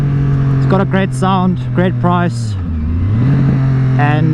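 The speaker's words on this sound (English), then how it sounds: "It's got that nice triple sound to it, nice racy sound." A Triumph Street Triple 765R with an SC Project exhaust idles with a deep steady drone, then revs in a series of short sharp blips that rise and fall before settling back.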